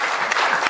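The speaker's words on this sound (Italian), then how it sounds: "Eccola qua, un bel applauso." Brief applause from the audience at a poetry award ceremony, a short burst of dense clapping at steady loudness.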